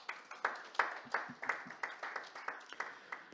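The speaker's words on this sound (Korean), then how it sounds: "실장님께 다시 한번 박수 부탁드립니다" Audience applause at an academic policy conference session, steady clapping from many hands with rhythmic peaks, fairly close and sustained throughout without speech.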